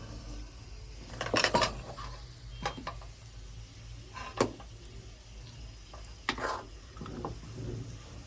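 A spoon scraping and clinking against a cooking pot while spices are stirred into chicken haleem, in a few sharp metallic knocks over a soft sizzle.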